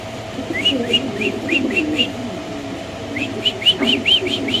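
A male king pigeon calls in a busy pigeon market with a constant low hum, giving a string of short, rising whistle-like notes in two bursts, close and fairly clear.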